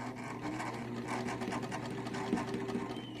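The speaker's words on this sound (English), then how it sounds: "serger thread, serger seam, sorry, and we're holding with our hands, and little by little we are sewing it." A serger stitching a cuff hem on men's pants, a steady close mechanical whir with fast rhythmic needle chatter running throughout, no speech.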